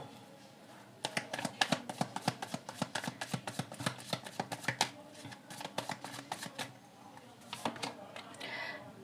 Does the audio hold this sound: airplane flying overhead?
no